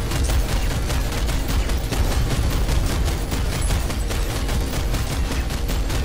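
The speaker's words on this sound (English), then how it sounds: "Someone's shooting, our friend is shooting" Dense, continuous gunfire from a friendly player's weapon in the video game PlanetSide 2, rapid bursts layered into a constant loud fusillade that fills the whole stretch with no pauses.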